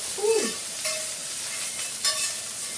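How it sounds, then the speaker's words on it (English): Onion sautés gently in a pan, making a soft steady sizzle with a few light scrapes and clicks of a utensil, heard close and without talk. "I'm just going to saute this onion, just ever so gingerly"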